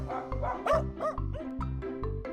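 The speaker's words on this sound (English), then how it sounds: "Dog," A dog barking in a short run of about five rhythmic woofs, clear and close, with some whining tones mixed between the barks, over a faint musical backing.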